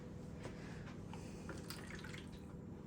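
Water trickles and splashes into a baking tray holding a Sainsbury's No Turkey veggie crown, a low steady pour with a few soft drips, close by and quiet.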